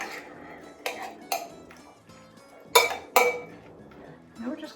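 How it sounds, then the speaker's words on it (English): Dishes and cutlery clink and scrape as a beet and greens salad is tossed with olive oil, with several sharp utensil-on-bowl knocks standing out from softer stirring sounds close by. "a little bit more olive oil. So let's mix that in"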